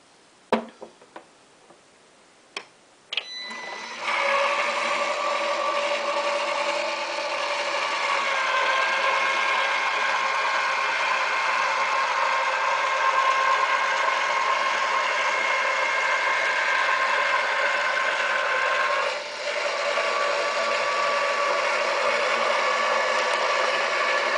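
A Cut 'N Boss die cutting and embossing machine starts up after a few clicks and then runs with a steady, close mechanical hum and whir, briefly dipping near the end.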